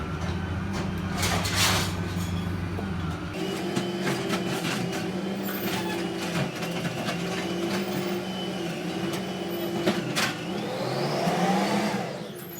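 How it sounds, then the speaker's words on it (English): A garbage truck outside, heard as a continuous low engine rumble and whine with shifting mechanical tones, steady and fairly loud throughout, with occasional clanks and a rising whir near the end. "Garbage truck is here."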